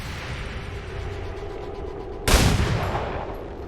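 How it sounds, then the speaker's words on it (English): Gunfire in the video game XCOM 2 erupts as a single loud, sharp burst that decays over a second or so, breaking a low, steady ambient rumble. "Right, we're under fire."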